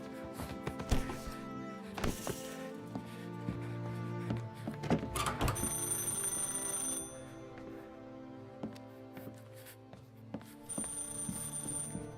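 Telephone ringing in the video game Mafia: Definitive Edition, a bell-like electronic ring repeating several times among game sounds and music tones, fairly clear, with no speech.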